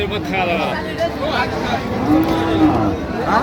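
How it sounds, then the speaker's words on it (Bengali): A cow with her calf mooing at a busy cattle market, one low drawn-out moo rising over a constant babble of people talking nearby. "গাভী বাছুর আমরা দেখছিলাম এখানে।"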